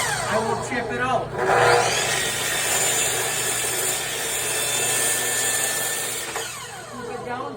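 A power saw crosscuts a wooden cutting board to length, a loud sustained whine as the blade works through the wood, then winds down as it spins to a stop.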